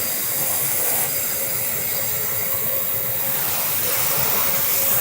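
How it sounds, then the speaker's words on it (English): A multi-motor dust collector draws air through 100 feet of stacked hose, giving a loud, constant vacuum-like roar with a high hiss, close and unbroken the whole time with no voices. "So it's going to feel a lot more like a wet, dry vacuum kind of suction versus a traditional dust collector."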